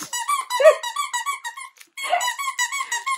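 A squeaky dog toy from a subscription toy box squeaks in rapid repeated bursts, loud and close, with a brief pause before another run of squeaks.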